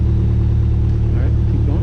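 A light training aircraft engine at low idle holds a steady, low droning hum throughout, with a voice talking over it.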